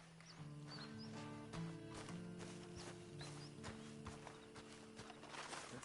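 Horse hooves clip-clop at a walk in the Red Dead 2 video game, a quiet, steady rhythm of soft thuds under a faint ambient backdrop with an occasional low snort.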